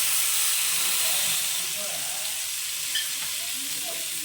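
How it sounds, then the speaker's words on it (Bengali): Spice paste of cumin, salt, turmeric, chili powder and ginger fries in hot oil, a steady close sizzle and hiss running throughout, with faint scraping stirs in the background and no talking. "এবার এটাকে খুব ভালো করে কষিয়ে নেবো একদম তেল বেরোনো পর্যন্ত।"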